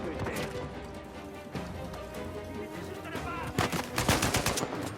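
Gunfire in Uncharted 4 rings out in rapid bursts of shots, dense and loud, with a heavier flurry toward the end, while someone talks in French over the action.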